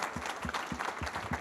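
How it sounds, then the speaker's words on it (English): An audience at a graduation ceremony claps, quick rhythmic claps over a soft bed of wider applause, moderately quiet and brief. "Big round of applause for everyone."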